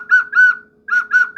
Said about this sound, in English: this is a whistle, and Spirit's telling me to kind of use it.